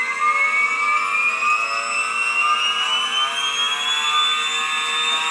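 A 60 volt electric motor spins at very high speed, around 50,000 RPM, giving a loud, steady high-pitched whine with bright overtones that climbs gradually in pitch across the whole stretch, with no talking over it.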